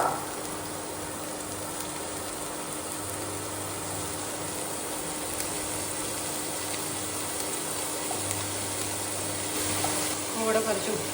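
Chopped medium onion sizzles in a pan with broccoli and egg, a steady broadband frying hiss running the whole time with a faint hum beneath and a small clatter near the end.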